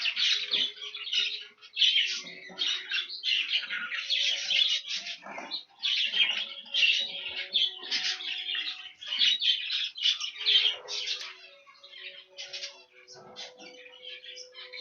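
Young birds in a breeding shed chirp and squawk constantly, a dense and fairly close chatter of overlapping tweets with some faint fluttering.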